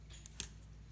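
A pair of scissors snips through scraps of plain white paper, giving one crisp, close cut with a faint lighter snip before it in an otherwise quiet room.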